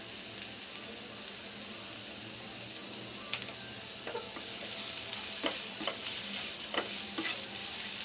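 Chopped onion with salt sautés in a pan over medium flame, a soft sizzle beneath repeated scraping stirs that grow more frequent and louder in the second half, no voices.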